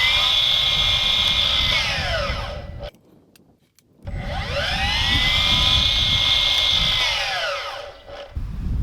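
Motor of a Milwaukee Fuel cordless 12-inch miter saw spinning up to a loud, high whine, winding down to near silence, then revving up again for a second long run.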